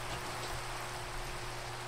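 Steady rain falls at night in the Minecraft video game, a dense continuous hiss with no pauses and no voices.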